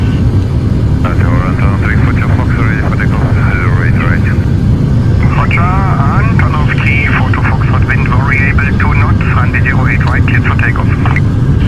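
Antonov An-124 Ruslan engines run up before takeoff, a loud, steady, broadband roar filling the cockpit throughout while crew members talk over it.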